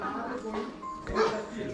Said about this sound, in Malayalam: കുറേ പട്ടികളുണ്ട്, അതാണ് ആ സൗണ്ട്.